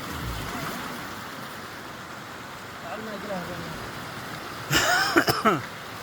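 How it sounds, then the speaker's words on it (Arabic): A flowing river by a waterfall in Yafi rushes as a steady broadband roar, with voices talking briefly over it and a sharper burst of splashing or movement near the end. "نهر جاري."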